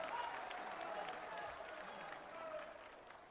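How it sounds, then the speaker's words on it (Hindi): A large crowd at a political speech applauds, a dense wash of clapping that holds steady and then begins to taper, with faint voices underneath. "जो लोग इससे सहमत हैं वो तालियों की गड़गड़ाहट से"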